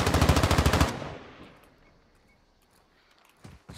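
An automatic weapon fires a rapid burst in Call of Duty Warzone 2 DMZ, about a dozen sharp shots in under a second. The echo then fades, and faint clicks follow.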